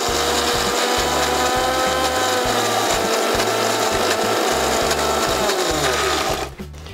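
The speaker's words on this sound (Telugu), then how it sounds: "ముందు వీటిని మెత్తగా మిక్సీ వేసుకున్నాక" Kitchen mixer grinder grinding coriander seeds and cumin, a loud, close whirring motor with a harsh rhythmic rattling pulse that runs steadily and cuts off near the end.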